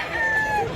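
A young stag gamecock, about a year old, gives a brief crow in Cebu, a short strained call heard close under background noise.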